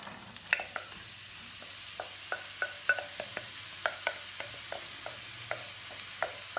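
Food frying in hot olive oil in a pan, a quiet steady sizzle broken by regular sharp scrapes and taps of a utensil stirring against the pan, close and soft.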